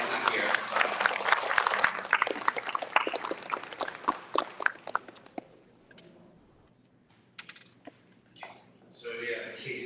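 A burst of clapping from a crowd at an esports banquet, dense at first and then thinning out into scattered claps before fading, with some background noise at the end.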